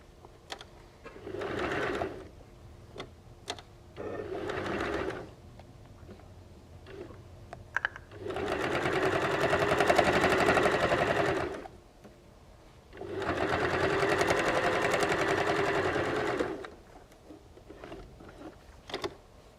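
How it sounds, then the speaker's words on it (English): Sewing machine stitching fabric for a microwave potato bag, running in two short bursts followed by two longer steady runs of rapid mechanical whirring, close and loud, with quiet pauses where the fabric is turned. "put your needle in, lift the foot and turn the fabric, and carry on around the corner"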